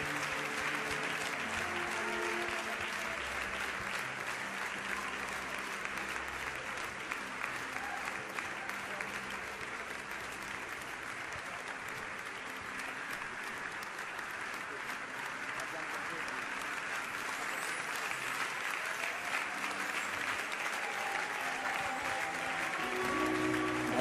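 A church congregation applauds and cheers for the Lord, sustained broad clapping that fills the space continuously and evenly for a long stretch, with no pauses.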